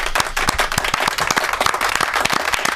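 Crisp, close clapping in a radio studio, a handful of people applauding with distinct sharp claps in a quick irregular rhythm throughout.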